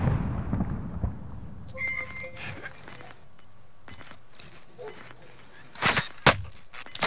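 Gunfire crackles in a Warzone battle royale match, with scattered shots that grow into loud, sharp bursts near the end over a low rumble, and a player's voice is heard briefly.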